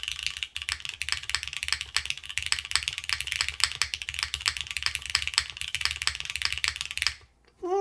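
Steady, fast typing on a Mode Sonnet mechanical keyboard fitted with PBT keycaps, dense close clacks running continuously before stopping near the end.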